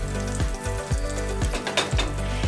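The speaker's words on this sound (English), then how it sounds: "just let that sizzle for about 5 minutes on one side" Black bean and quinoa veggie burger patties sizzle steadily in coconut oil in a frying pan, a close, continuous crackling with a few soft clinks or shifts of the pan.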